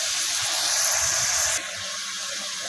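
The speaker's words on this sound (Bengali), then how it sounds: "এখন এই সবজিটা ভেজে নিব" Cauliflower, pumpkin, potato, tomato and cabbage fry in hot oil with a loud, steady, close-up sizzle that abruptly softens partway through and continues at a lower level.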